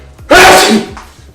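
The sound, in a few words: sneeze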